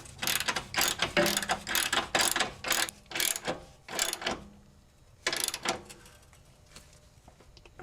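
Half-inch ratchet wrench tightening a front lower control arm bolt on a 2000s BMW X5 4.4i E53, a series of quick rapid clicking bursts in rhythmic strokes, close and loud, then pausing.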